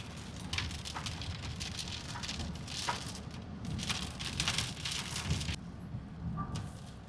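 Rain falls during a car journey on the Delhi–Meerut Expressway, pattering and splashing steadily on the vehicle with irregular bursts of heavier drops over a low road rumble, all fairly quiet.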